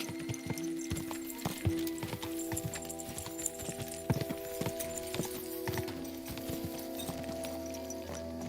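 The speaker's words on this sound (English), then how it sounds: "There's also a horse here, but no rider." Horse hooves clip-clop in the video game Kingdom Come Deliverance II, a quiet, steady walking rhythm of hollow clops over a low ambient game background, with no talking.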